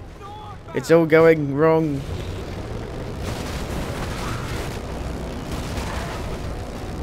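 Someone speaks briefly, then sustained rumbling blasts from explosions in Dead Rising 3 roll on as a steady, broad roar that fills the rest of the scene.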